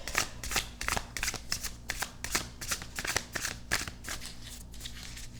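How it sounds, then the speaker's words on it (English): Wild Unknown Animal Spirit tarot cards are shuffled by hand in a quick series of about a dozen crisp riffling bursts, close up with no talking. "I'm going to shuffle 3 times"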